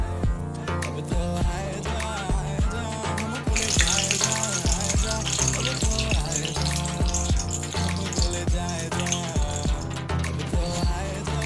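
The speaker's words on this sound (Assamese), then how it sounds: "এনেদৰে মই পাপৰকেইখনো ভাজি লৈছোঁ।" Steady crackling sizzle of papad frying in hot oil, close and continuous, with sharp pops and a brief louder burst partway through.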